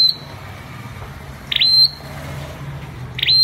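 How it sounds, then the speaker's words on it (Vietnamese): A caged songbird used as a decoy for bird trapping sings in short, loud, clear whistled phrases, three bursts spaced over a few seconds against a quiet background. "Cho nó vô lục nó khoái lắm, nó hót lên nè."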